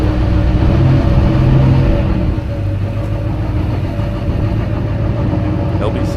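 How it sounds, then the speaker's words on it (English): A blue GMC truck with an LB7 Duramax diesel engine drives along, its loud, low rumbling drone steady throughout, shifting slightly in tone partway through, with a voice speaking faintly over it. "LB7 Duramaxes have such a unique sound"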